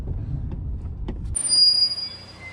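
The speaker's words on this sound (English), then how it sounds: "Squeaky brakes." Brakes on a used Chevrolet Cruze bought at auction give a thin, high-pitched squeal that starts partway through and holds over a low rumble.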